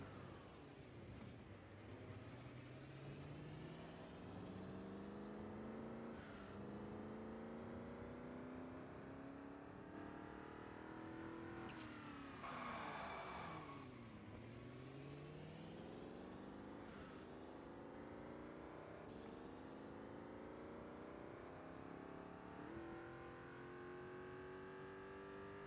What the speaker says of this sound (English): Does this car have an electric motor? Sounds funky.